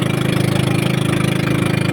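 A large fishing-boat engine runs at a steady, loud drone with an even, unbroken rumble throughout, and no voices can be heard over it.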